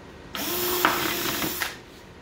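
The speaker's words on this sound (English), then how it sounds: "I'm going to start by drilling a good size hole" A power drill bores a good-sized hole, one steady high whirring burst of about a second and a half, close and loud, with a slight pitch wobble as the bit bites.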